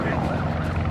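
Police helicopter flying over Los Angeles during a tsunami warning gives off a steady, dense low rotor-and-engine rumble that stays constant throughout.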